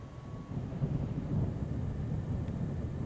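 A low, rumbling roll of thunder during a storm in the video game Microsoft Flight Simulator, over Sendai, Japan, swells and lingers, deep and steady beneath a faint windy hiss.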